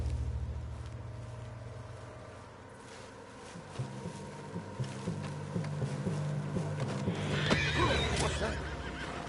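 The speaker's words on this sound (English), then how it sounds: "What's got this horse spook," A spooked horse in the Red Dead Redemption 2 video game whinnies loudly and close, with steady clip-clopping hooves running underneath throughout.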